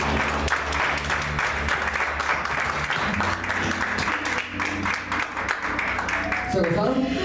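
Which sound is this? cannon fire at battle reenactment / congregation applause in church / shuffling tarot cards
congregation applause in church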